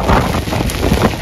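Strong typhoon wind roars continuously around a hut in Bicol, a loud broadband rush with buffeting on the microphone, steady and unbroken with no voices.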